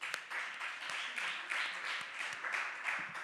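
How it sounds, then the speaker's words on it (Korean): A church young adults' service gives a welcoming round of applause for a newcomer, a soft, somewhat distant wash of clapping from a small crowd, steady for a few seconds. "박수"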